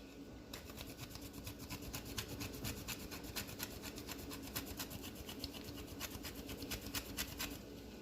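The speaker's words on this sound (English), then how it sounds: "I'm going to grate my lemon zest." Lemon peel rasped against a grater for zest, a steady run of quick scraping strokes held close and fairly loud for the whole stretch, with no one speaking.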